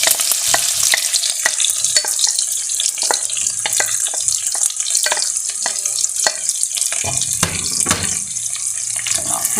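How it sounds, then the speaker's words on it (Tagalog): Garlic and onion frying in a pan for spaghetti with spinach, a bright loud hiss of hot oil with frequent crackles and stirring scrapes throughout, close up, with no one speaking. "Tapos lalagay na natin ang ating bawang. Sama na natin sibuyas."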